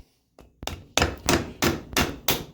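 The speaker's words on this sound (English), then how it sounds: "I'm going to start with a plastic mallet" A plastic mallet hammers on a DeWalt 12-inch compound slide miter saw motor housing to drive out a bearing, giving a quiet tap and then five loud, evenly spaced blows close by.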